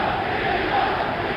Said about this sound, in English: Crowd chanting, Jimmy Young,